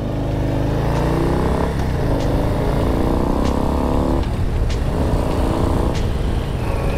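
A heavy 2022 Harley-Davidson Low Rider S engine, the 117 Milwaukee-Eight of nearly two litres, rumbles and revs steadily for several seconds, loud and close, with rising pitch sweeps as it accelerates through gears.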